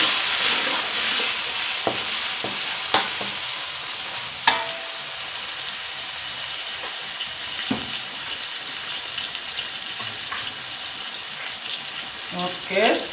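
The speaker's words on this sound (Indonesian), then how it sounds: "sekarang saya masukkan bawangnya sahabatku ya" Onions frying in a pan for tomato rice, a continuous close sizzle with occasional sharp clinks and stirring scrapes, fairly loud and steady, with no talking heard.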